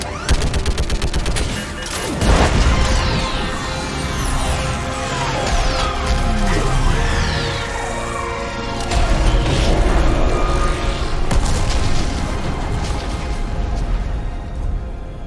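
An orbital strike from a fleet pounds a live Reaper in the Mass Effect 3 video game: a long, loud barrage of booming blasts, rapid gunfire and mechanical rumbling that continues without pause, with no voices.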